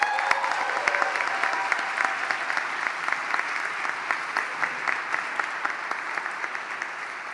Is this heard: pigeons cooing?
no